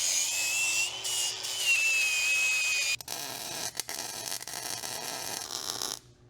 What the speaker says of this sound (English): we've got to grind just a little bit of the paint off and we can start building links.